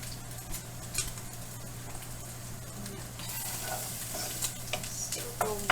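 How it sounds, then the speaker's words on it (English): Onions caramelizing alongside bacon frying in a pan, a steady crackling sizzle running throughout with occasional utensil scrapes and clinks, fairly close, broadening louder toward the end. "Caramelizing these onions, they look really good. My bacon is just about done."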